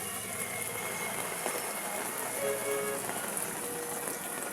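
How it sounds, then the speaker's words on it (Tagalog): Heavy rain pours steadily on a surface during a dark, stormy spell with strong wind, a continuous dense hiss with a faint idling engine underneath and a person talking over it. "Malakas na naman ang ulan."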